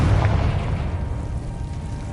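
A Confringo fire spell blasts in Hogwarts Legacy, a loud, low booming explosion that swells at once and then rolls away with a deep rumble over about two seconds.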